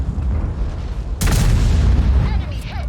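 A tank cannon in World of Tanks, fired from an FV215B heavy tank at a rear-mounted Russian heavy, lets off one loud boom with a burst of broadband blast. A rumbling tail follows over steady low engine noise.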